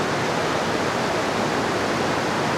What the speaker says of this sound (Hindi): और अब ये मंदाकिनी नदी का बहाव